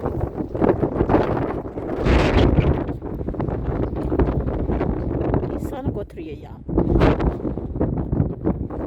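Strong wind buffets the microphone in rough, rumbling gusts while people talk close by.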